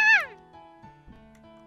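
A single short, high cat meow from the video game FunkyStoryMode rings out at the start, followed by faint low murmurs and quiet tonal background sounds.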